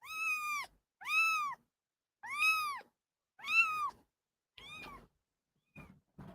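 A cat gives a series of about six loud, drawn-out meows with short pauses between them, the last few growing shorter and fainter; no purring stands out.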